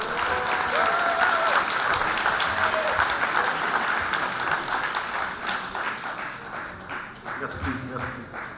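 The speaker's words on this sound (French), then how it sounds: "Please, a round of applause." Wedding guests clap in sustained, dense applause that fills a reception room, gradually thinning toward the end while a voice speaks over it.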